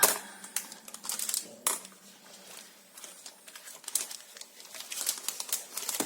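A paper envelope is handled and crinkled up close, with scattered rustling and crackling bursts that rise and fall over several seconds and no talk.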